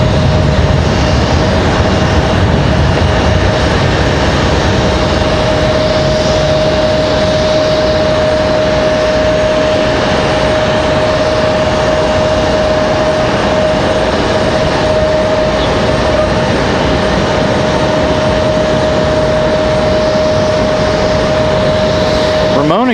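Jet airliner departing Raleigh-Durham International Airport for DFW, a loud sustained engine roar with a steady high whine running throughout, with talking at times over it.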